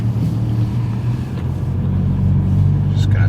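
A Fiat Abarth car engine warms up while driving off gently, a close, steady low rumble that swells slightly near the end.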